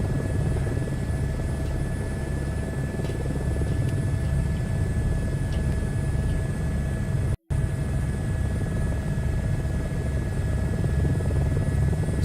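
Helicopter rotor and engine in Microsoft Flight Simulator 2024, a loud, steady, close low thudding drone that continues throughout, cut by a brief near-silent gap partway through.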